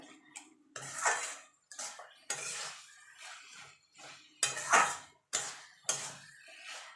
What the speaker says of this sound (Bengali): আমি বাটিতে নামিয়ে দেবো।